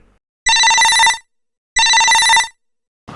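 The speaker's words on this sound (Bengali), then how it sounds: "ম্যাডাম ফোনটা ধরেন প্লিজ ফোনটা ধরেন" A telephone rings in two loud, identical electronic bursts of about three-quarters of a second each, separated by a short silence, with the start of a third ring at the very end and no voices.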